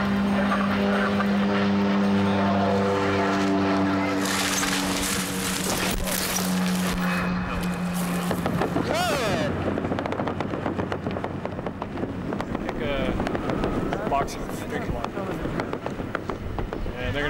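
A propeller airplane drones during smokejumper firefighter training in the United States, a loud steady engine hum that shifts into rushing wind noise, with people talking under it.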